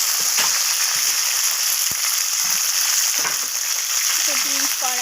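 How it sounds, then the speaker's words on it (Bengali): Beans and nuts stirred and fried in a pan for vegetarian khichuri, giving a steady loud sizzle with scraping stirring strokes throughout and a few brief tonal clinks near the end. "তো বিনস কড়াইগুলোকে আমি নাড়াচাড়া করে ভেজে নিচ্ছি বাদামের সাথে।"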